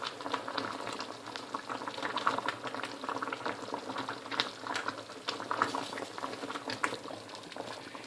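Curry sauce for eggs in curry boils on high heat, a steady crackle of small bubbles popping at a moderate, close-up level with no talking.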